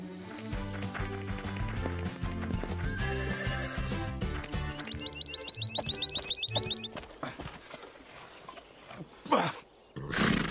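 Horses whinny and their hooves clop as riders mount up, with a rapid, rising neigh standing out near the middle over a busy musical backdrop, followed by a few louder thumps.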